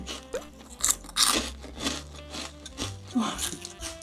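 A crunchy fried Costco snack with a rough, meringue-like texture is chewed close up, giving repeated dry crunches and brittle snaps in an irregular rhythm, with faint murmuring underneath.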